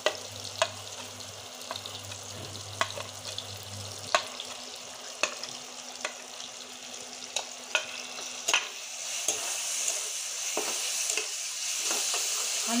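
Garlic, ginger and chili paste frying with onions for an eggplant dish, a low steady sizzle broken by sharp, repeated spoon scrapes and clacks against the pan, with a brief hum at the start.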